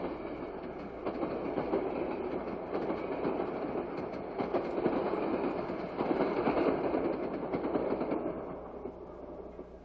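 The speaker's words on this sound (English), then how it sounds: "Another Grand Trunk passenger train, the Maple Leaf, is heading east out of Griffith," A Grand Trunk Maple Leaf diesel passenger train heads east out of Griffith, Indiana, its wheels clattering rhythmically over the rails with a steady rumble that swells slightly mid-pass, then fades, at a moderate distance.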